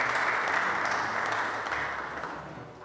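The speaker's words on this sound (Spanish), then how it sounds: "Un fuerte aplauso, por favor" Dense, steady applause fills the hall at an official memorandum signing ceremony during the Emir of Qatar's state visit, a continuous wash of many hands that slowly fades toward the end.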